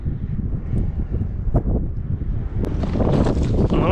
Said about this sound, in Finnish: Tiedän, tuulee.